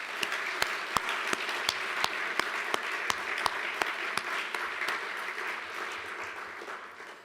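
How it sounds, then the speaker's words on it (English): Audience applauding at an awards ceremony for outstanding mechanical engineers, a steady wash of many hands with a few sharp, close claps standing out, fading slightly toward the end. "I would like to offer one last round of applause, or maybe one more round of applause"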